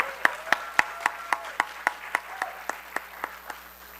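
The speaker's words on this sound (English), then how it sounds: "Let's give another round of applause for them." Sparse, evenly spaced hand claps at a university coronation ceremony for a royal court, about a dozen distinct claps in a slow rhythm rather than full crowd applause, heard with no talk.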